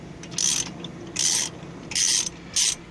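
A small ratchet wrench fitted with a large socket works loose a vehicle axle, giving four short bursts of close, bright ratcheting clicks separated by brief pauses over a quiet background.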